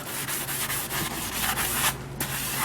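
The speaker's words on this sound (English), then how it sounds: "go with a green 3M scrubby and really start putting some elbow grease on the surfaces" Green 3M scrubby pad scouring baked-on food from the metal surfaces of a conveyor oven, a steady rasping scrub in quick repeated back-and-forth strokes, close and continuous with no talking.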